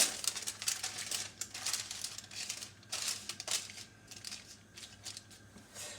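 Parchment paper crinkling as it is laid over a pan of carrots, giving soft irregular rustles and crackles in short bursts, close and quiet, with no talking.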